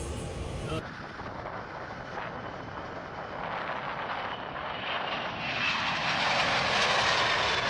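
An airplane's engines drone loudly and steadily during a test flight, heard from inside the aircraft with a broad roar that swells slightly toward the end.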